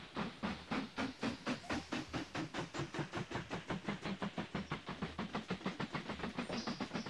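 Trains roll by in the railway-building video game Mashinky, a steady rhythmic chugging of quick even pulses with a soft steam hiss, holding constant and fairly quiet throughout.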